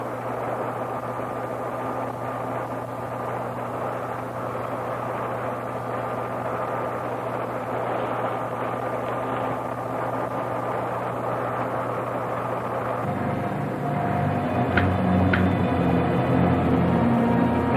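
A steady roaring rumble of a spaceship rocket in a film, with a sustained drone that holds evenly and then swells louder and rougher near the end, with no talk.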